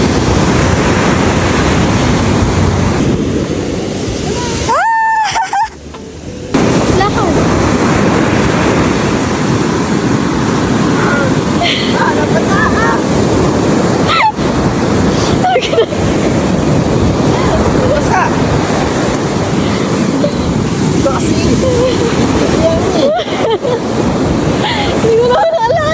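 Loud, continuous ocean surf rushing and washing on a beach in La Union, with strong wind buffeting the microphone and brief voices and rustles partway through.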